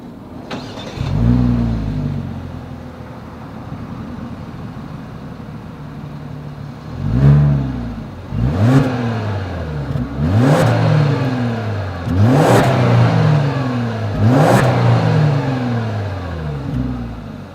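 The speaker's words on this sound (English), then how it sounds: "As always, here is that exhaust clip." A 2021 Genesis G90 exhaust revs repeatedly, several sharp throttle blips rising and falling over a deep idling rumble, loud and close, no voices.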